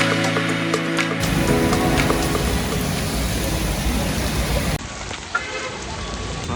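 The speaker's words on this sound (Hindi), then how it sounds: "अपन इंडिया छोड़ के निकलने लगे तो भाई बारिश चालू" Heavy rain pouring down steadily as a dense, loud hiss throughout, with a brief muffled shift partway as if moving or covered, no one talking.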